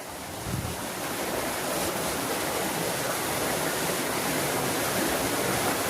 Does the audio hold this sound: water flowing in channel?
yes